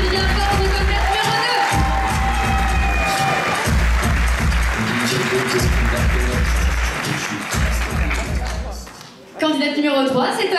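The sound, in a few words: audience applauding a pageant candidate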